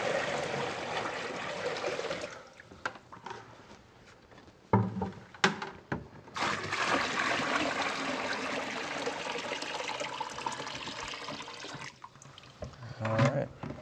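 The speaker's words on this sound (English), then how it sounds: "our first step right now is going to be to fill the basin with some water" Water pours into a basin in a continuous trickling stream, heard up close and fairly loud, briefly dropping away and clattering midway before the filling resumes.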